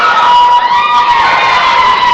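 A small capacity crowd of about 117 people cheering and shouting at a Black Diamond Wrestling show in Camden, West Virginia, a steady loud wash of voices with a sustained high tone running through it.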